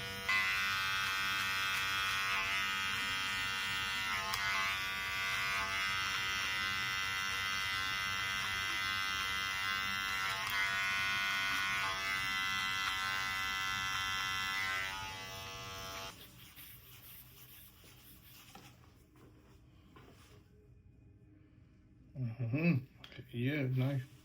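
Close, steady electric buzz of a Wahl Magic Clip hair clipper tapering a haircut, running continuously for about sixteen seconds before cutting off, followed by quiet and then brief talk.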